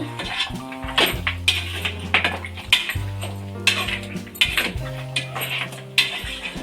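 A spoon works onion paste and masala around a cooking pot for mutton sambar, giving repeated close metallic scrapes and clinks against the pot in an uneven rhythm, with no voices.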